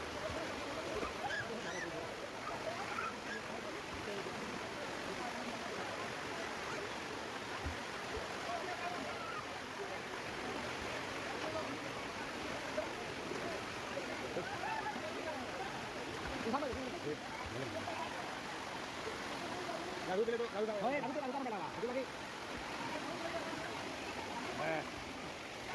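Strong, cold water rushes and flows at Harishankar in Odisha during a Baisakh fair, a steady broadband wash that stays loud and unbroken from start to finish.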